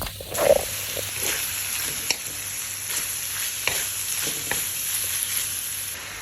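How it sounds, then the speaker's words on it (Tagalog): Hotdog pieces simmer in spaghetti sauce as a spoon stirs them, producing a low, steady bubbling sizzle with occasional soft scrapes and taps, close and alone under a faint high hum. "Haluin hanggang sa maluto yung hotdog."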